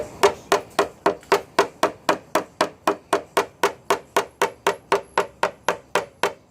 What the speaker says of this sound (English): you can see I'm kind of forcefully throwing this hammer down on this top edge